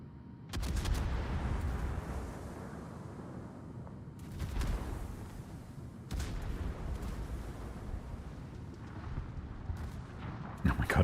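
Naval guns firing in World of Warships, several heavy booming salvos spaced a few seconds apart, each followed by a rumbling roll that fades under a constant low background.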